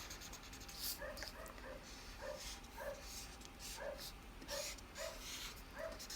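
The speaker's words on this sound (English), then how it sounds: "Y'all hear my dog outside barking?" Faint, distant dog barks repeat in an irregular rhythm, muffled as if from outdoors, over a steady background hiss.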